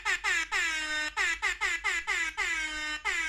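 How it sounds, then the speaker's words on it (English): Repeated blasts of an air horn sound effect played from a phone app, about eight loud, bright honks in an uneven rhythm with brief gaps, some short and some held longer, alone with no talk. "Got an app recently that's got air horns on it"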